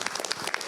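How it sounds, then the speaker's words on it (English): Brief burst of audience applause at a city citizen's academy class session, a soft wash of many hands clapping together at moderate distance. "let's give them a round of applause"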